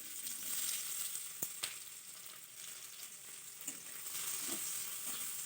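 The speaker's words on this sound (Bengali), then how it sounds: "তেল গরম হয়ে গেল, এখন আমি পেঁয়াজ কুচি দিয়ে দিতেছি" Steady hiss and crackle of onions sizzling in hot oil, with a few sharper pops and the scrape of stirring now and then.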